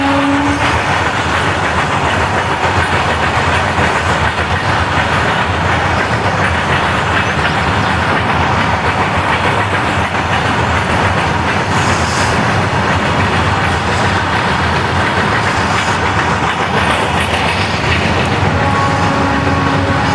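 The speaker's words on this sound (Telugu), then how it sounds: "గూడ్స్ ట్రైన్ వెళ్తుంది." A goods train rolls past near Araku in green hill country, giving a steady, loud rumble with rail noise that holds evenly for the whole stretch and has no voices over it.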